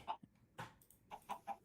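Minecraft chickens in a pen cluck in short, quiet bursts, about six separate clucks spaced irregularly across the moment, with no talking over them.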